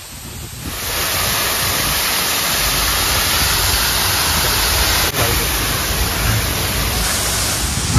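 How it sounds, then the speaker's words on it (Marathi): Heavy monsoon rain pouring at Malshej Ghat, a loud, even broadband hiss that swells in within the first second and holds steady throughout. "भाई लय जोरात पाऊस यायला लागला इकडे."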